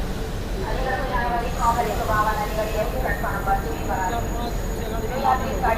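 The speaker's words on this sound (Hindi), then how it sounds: "तो हमारी ट्रेन जो है वापस से आ चुकी है प्लेटफॉर्म पर।" An LHB-coached Mussoorie Express (14342 Dehradun–Shakurbasti) stands at a railway platform, its low, continuous rumble filling the background while a person talks over it throughout.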